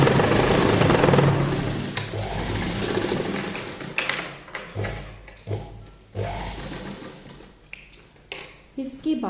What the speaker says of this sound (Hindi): इसको नॉर्मल तरीके से सिलाई लगानी है